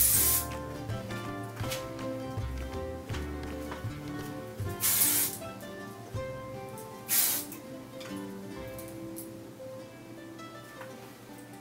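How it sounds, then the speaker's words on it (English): Hairspray is sprayed onto freshly curled, wavy hair to lift it for volume: about three short hissing bursts, close to the microphone, over steady background music. "I just pull it up and spray so it gets a little bit of volume."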